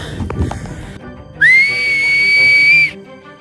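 A single sharp, shrill whistle blast starts a giant hide-and-seek game at a campsite, rising quickly and holding steady for about a second and a half, loud and close after some quiet background noise.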